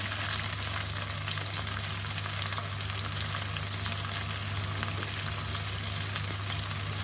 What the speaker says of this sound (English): I put a little bit of coconut oil in here. And then straight away, I'm going to just pop my tomatoes.